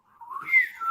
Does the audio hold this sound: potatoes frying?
no